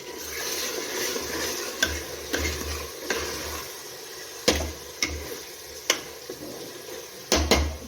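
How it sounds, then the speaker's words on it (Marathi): A spoon stirs tomatoes into frying onions in a pan while cooking chicken rassa, with a low sizzle under repeated scraping clinks and taps at an irregular pace. "यामध्ये आपण टोमॅटो टाकून घेऊया आणि फिरवून घेऊ"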